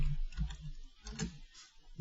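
Close, quiet typing on a computer keyboard, a short burst of soft irregular key taps with no speech.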